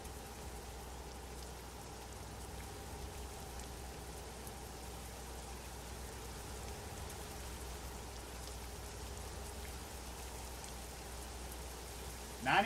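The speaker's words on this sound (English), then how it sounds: "The rain started." Steady rain falling near Tulsa, Oklahoma, a soft, even wash of noise that holds quietly for the whole stretch with no voices, ending in a brief louder bump.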